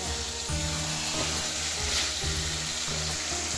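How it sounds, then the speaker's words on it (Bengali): Chicken kosha sizzling in a pan as it is stir-fried, with a steady moderate frying hiss and periodic stirring scrapes, no talk. "চিকেন কষানো হচ্ছে"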